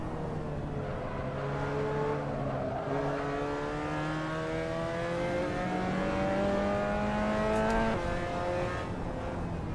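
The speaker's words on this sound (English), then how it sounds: "It's really good with the MX-5s. MX-5 and TCRs at Brands Hatch." Mazda MX-5 race cars lapping Brands Hatch in the racing game Assetto Corsa, with a steady engine drone whose pitch climbs and drops through gear changes, loud and continuous without any talk.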